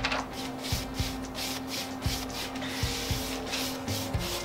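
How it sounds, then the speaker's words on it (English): A dry brush drags lightly across a salvaged piece of furniture while white paint is stroked on, giving a steady raspy scrubbing with repeated soft knocks and pauses between strokes, close by and with no talking. "I'm just gonna come over this and lightly go over the whole piece with this dry brush just to give it some strokes of white paint"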